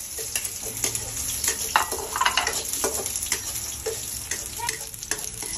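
Onion sautéing in a hot pan, with a steady crackling sizzle and occasional scraping stir strokes, close and continuous, no talking.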